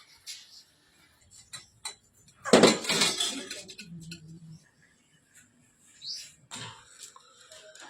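Metal dishes and pots clink and clatter in a village home, a burst of handling followed by scattered lighter taps and knocks, close by, with no talking.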